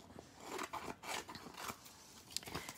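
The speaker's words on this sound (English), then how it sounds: "So I'm just going to cut it to fit." Scissors trim sticky material to size in a series of close, crisp snipping and rasping cuts, fairly continuous with short gaps between strokes.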